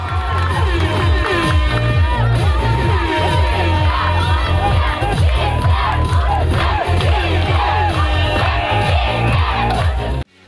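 Spectators at a student mini-football match, with students and teachers playing, cheer, whoop and shout nonstop in a loud, dense crowd roar that cuts off abruptly at the end.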